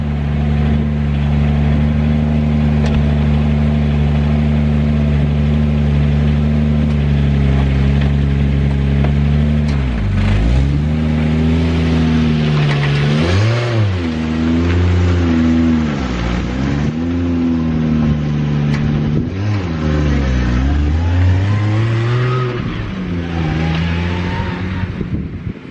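A BMW E46 fitted with a 2JZ engine runs steadily at a loud, close idle, then revs up and down in several rising and falling sweeps with no talking.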